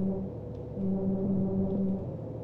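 A truck horn in the Heavy Cargo truck simulator game blares in steady low tones, two sustained honks separated by a brief gap, moderately loud with no talking.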